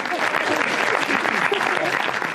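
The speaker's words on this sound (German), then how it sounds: "Applaus gab es für den Eröffnungsfilm des oberösterreichischen Regisseurs Johannes Holzhausen." An audience at a film festival applauds after the opening film, a documentary about a large museum. The dense clapping continues throughout while voices murmur and talk underneath it.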